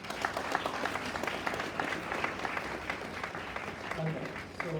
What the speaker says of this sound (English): Just one round of applause.